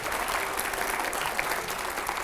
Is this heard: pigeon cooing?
no